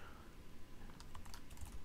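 Keys tapped on a computer keyboard while entering code, a short run of light, uneven clicks that grow busier toward the end over a faint background hum.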